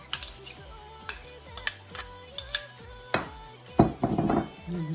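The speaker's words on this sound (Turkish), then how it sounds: "Şimdi mayonezini ilave ediyorum" A spoon clinks and scrapes against a bowl while mayonnaise is mixed into grated celeriac and apple, a series of sharp close taps with a brief wet stirring burst near the end.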